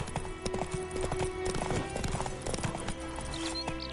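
Hooves of the horse Roach clip-clop at a gallop in The Witcher 3, rapid rhythmic beats close by over a steady game ambience, with a faint whinny.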